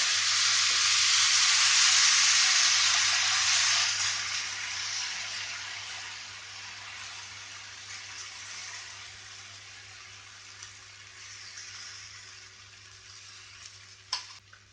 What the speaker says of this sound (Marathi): आनी आतां आमकां पोळो घालपाक जाय, भाकरी घालपाक जाय।